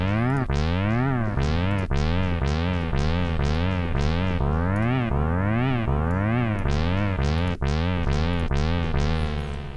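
A synthesizer patch with delay sweeps up and down in repeating glides, each pitch sweep trailed by echoing delay repeats, steady and loud throughout with no voices.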